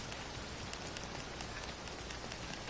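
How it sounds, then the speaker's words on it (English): Steady rain falls in the video game Red Dead Redemption 2, a dense, even hiss of drops with scattered small taps, with no talking. "And then we're gonna go fishing under the rain."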